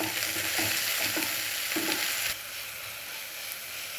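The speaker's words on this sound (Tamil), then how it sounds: "தக்காளி ஆட் பண்ணிக்கலாம். வெங்காயம் நல்லா வதங்கிடுச்சு." Chopped tomato sautés with browned onions in a pan for wheat noodles, giving a loud close sizzle with scraping stir strokes that quiets to a softer hiss partway through. No one speaks.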